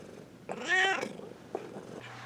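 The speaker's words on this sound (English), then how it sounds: "Meow!" A single close cat meow, a short whining cry rising then falling, followed by a brief softer chirp and faint rustling, with no speech.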